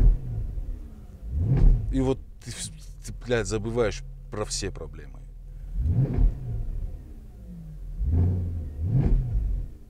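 A Mercedes ML 6.3 engine revs hard several times, the exhaust roaring up and dropping back, while someone talks over it between the bursts.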